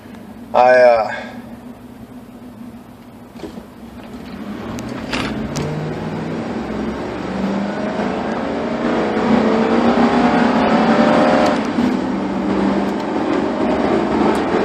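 Ford Mustang accelerating beside a pickup truck onto a freeway, a rising engine roar and road noise that builds and holds, with someone talking briefly at the start.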